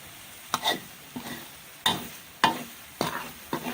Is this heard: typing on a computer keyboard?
no